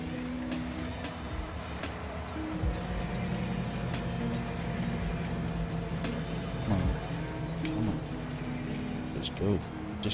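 Train from the video game Farming Simulator 25, heard as a steady rumbling engine drone with sustained tonal hums that runs loud and unbroken through the whole stretch, with a few faint higher clanks and squeals on top.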